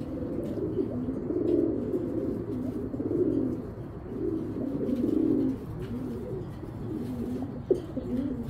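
A pair of silver pigeons coos steadily, close and clear, in soft repeated rolling phrases that overlap for the whole stretch, with a light background hum and one brief tap near the end.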